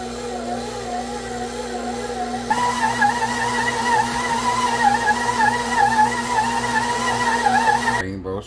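A stand mixer in first gear kneads a dough of flour for rainbow-sprinkle cinnamon rolls, a steady motor hum with a wavering whine that steps up partway through and cuts off near the end.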